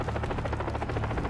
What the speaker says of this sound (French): Tu vois l'hélico?